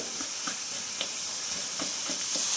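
Paneer curry with cashew paste and garam masala paste stir-fried in a pan, a steady soft sizzle and hiss with faint scraping stir taps at irregular intervals, no talking.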